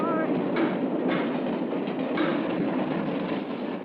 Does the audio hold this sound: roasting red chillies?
no